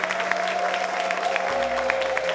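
An audience at a singing contest applauds steadily in a brief, continuous patter of clapping, with a low hum underneath.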